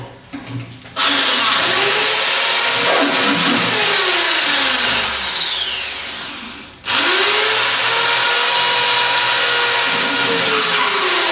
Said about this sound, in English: just drill all those holes ready for the pop rivets